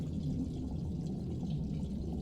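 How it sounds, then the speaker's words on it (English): Water draining from a pool in a video game, a steady low rushing and gurgling wash that fills the whole stretch without pause. "It's draining the water!"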